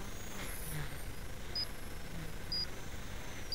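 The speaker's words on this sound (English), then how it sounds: "That's my timer." A timer on an MCPX brushless RC helicopter setup gives three short, high beeps about a second apart. They are faint over a steady background hum.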